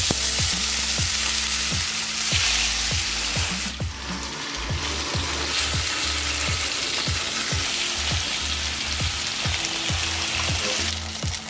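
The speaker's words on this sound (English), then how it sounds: "So we're just going to put a little bit of olive oil. So our pan's nice and hot. We're just going to sear it." Hake sears in a hot pan with olive oil, a loud, continuous sizzle and crackle close by, with a rhythmic scraping or stirring pattern running underneath throughout.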